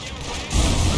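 Gunfire in Red Dead Redemption 2 erupts as a dense, booming volley that swells abruptly halfway through the short moment, loud and close.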